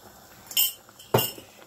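Utensil clinking against a pot while Greek fish soup is stirred, two sharp metallic taps about half a second apart over a quiet background.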